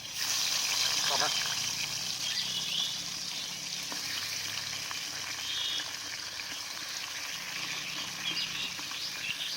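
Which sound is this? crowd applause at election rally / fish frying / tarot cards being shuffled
fish frying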